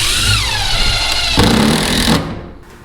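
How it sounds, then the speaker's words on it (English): A power drill boring holes in wooden risers for tree stands: a loud, close whining motor that shifts in pitch as it bites into the wood, then winds down and cuts off near the end. "So we got those all drilled out."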